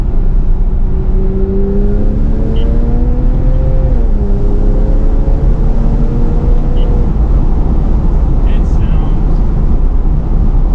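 Porsche 911 fitted with a Fister exhaust revving, a steady loud engine drone with rising and falling harmonic sweeps as the revs climb and settle.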